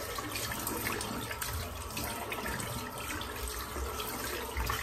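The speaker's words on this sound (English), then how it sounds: "I'm just rinsing that off." Tap water runs steadily over an alum block being rinsed at a sink after shaving, a continuous close splashing hiss with no speech.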